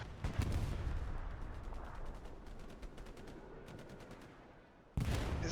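Rocket and gunfire exchanges between squads in Hell Let Loose, a competitive 49v49 match on Utah Beach, form a dense, continuous roar of battle with repeated sharp bursts, ending in a sudden loud blast.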